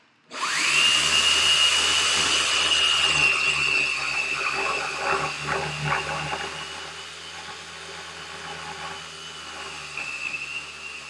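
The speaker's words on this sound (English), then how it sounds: "we're just gonna sand for a minute" Power sander working a board in a workshop, a steady loud whine with a sustained high tone that runs continuously for most of the stretch, then eases lower and rougher toward the end with no talking.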